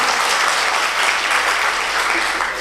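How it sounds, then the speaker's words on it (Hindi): A live audience at a Hindi comedy poetry show claps loudly and steadily in a dense, unbroken wave that fills the room. "देखो बात समझ में आ रही है तो ताली बजाओ एक बार जोरदार"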